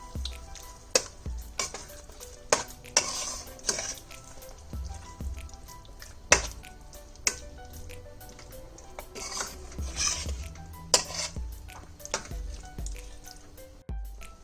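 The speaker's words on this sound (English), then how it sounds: "Just make sure you fully coat the paneer chunks with the gravy." Paneer chunks stirred into tomato gravy in a pan, with repeated spoon scrapes and knocks against the metal over a low simmering sizzle, close and unaccompanied by talk.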